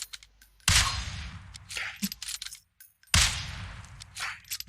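Gunfire in the mobile shooter PUBG Mobile: two loud bursts of rapid shots, each starting sharply and trailing off into scattered cracks, separated by a brief silence.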